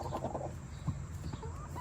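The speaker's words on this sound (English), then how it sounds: "She is my biggest hen." A hen clucks softly in a backyard chicken coop, a few low, quick murmuring clucks close by over a steady background hum.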